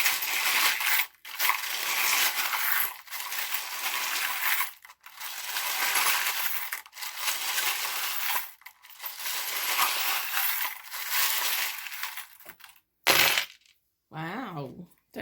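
Tarot charms cast out and tumbling onto a surface, a series of bright metallic clinks and rattling bursts separated by short silences, fairly close, with no voices.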